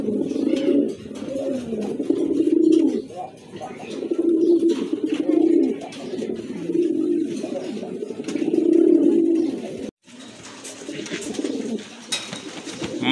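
Several Lahori pigeons, kept in breeding pairs, coo steadily in repeated low rolling phrases, loud and close, with a brief gap near the end before the cooing resumes.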